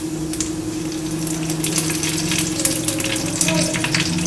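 Mustard seeds with urad and chana dal crackle and fry in hot refined oil for a street-style dosa masala. The sputtering is steady and fairly close, over a constant low hum.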